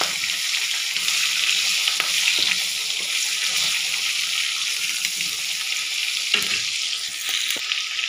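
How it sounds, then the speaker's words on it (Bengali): Fish heads frying in hot oil in a home kitchen, with panch phoron spices about to be added: a steady, loud, close sizzle and crackle running throughout, broken by a few brief stirring knocks. "দেখুন মাছের মাথাগুলো আমার হালকা ভাজা হয়ে গেছে। এবারে আমি ওতে দিয়ে দেবো পাঁচফোড়ন,"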